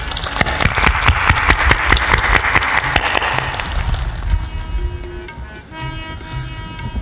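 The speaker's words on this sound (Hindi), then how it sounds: "जोरदार ताली बजाओ।" Loud, dense audience applause fills a hall at a Hindi spiritual discourse, rapid overlapping claps that then fade into quieter scattered sounds.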